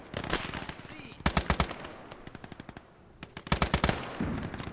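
Machine gun fire in the WWII strategy game Gates of Hell: Ostfront, rapid bursts of close, loud shots in two clear volleys with sparser fire between, no voice over it.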